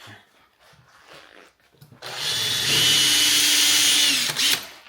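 After some quiet handling noises, a power drill whines loudly for about two and a half seconds as it bores a non-metal hole for headlight guards on a Land Rover Defender L663, then stops.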